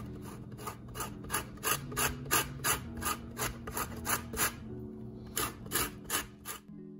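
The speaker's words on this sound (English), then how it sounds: "you can use a cheese grater on the finest setting, and that's what I'll be doing today" Lemon zested on the finest side of a cheese grater, a series of quick, rhythmic rasping scrapes close up, with a short pause midway before the strokes resume.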